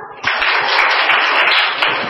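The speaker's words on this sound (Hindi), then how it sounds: "ताली बजाओ।" Children clap their hands together in a classroom, a dense burst of applause lasting about two seconds after a brief lead-in, close and loud with no talking.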